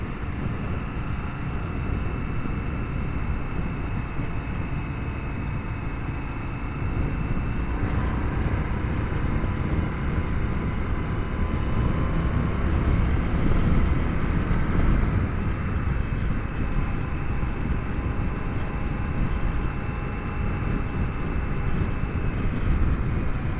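An Indian FTR1200 S motorcycle engine pulls steadily uphill at around 4,000 RPM, a constant droning hum mixed with heavy wind rush, rising slightly in intensity partway through.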